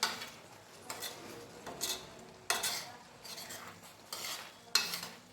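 Lemon crush cooking in a pan over medium gas, stirred with a utensil in repeated scraping passes roughly every second, close and moderately quiet, with light sizzling underneath.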